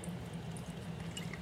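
Water trickling and gurgling through a bell siphon in a backyard aquaponics grow bed, a soft continuous flow with a low murmur and light splashy drips, close and steady.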